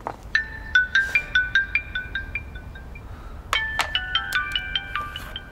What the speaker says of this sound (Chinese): 来，我给十一打电话。